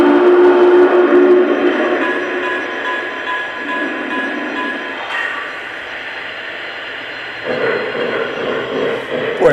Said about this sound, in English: And hearing the engine's whistle,